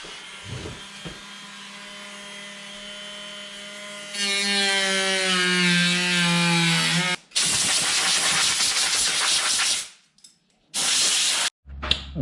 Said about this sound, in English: my Dremel tool just completely went up in smoke